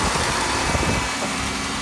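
A Buick 3800 series V6 idles nearby in a Buick Rendezvous, giving a steady, loud mechanical drone with no voices.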